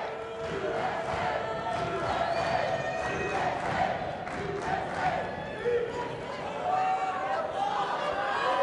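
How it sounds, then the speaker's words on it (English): A loud crowd celebrating at a Mosconi Cup pool match in America, with a roaring mix of cheering, chanting and shouting voices sustained throughout at close, heavy volume. "The crowd doing their usual celebrations."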